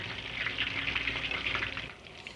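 Chicken pakora fries in hot oil with a steady, soft bubbling sizzle that holds for a couple of seconds before easing slightly.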